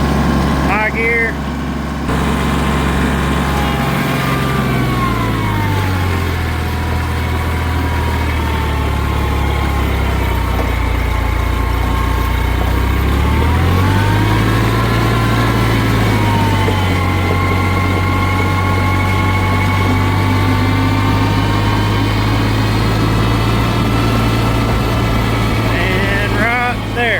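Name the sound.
Kioti CK tractor engine revving up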